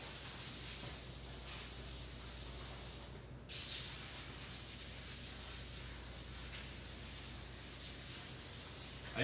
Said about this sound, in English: And just spray down the tops of each one.